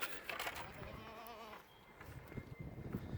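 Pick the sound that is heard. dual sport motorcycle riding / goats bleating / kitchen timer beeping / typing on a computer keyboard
goats bleating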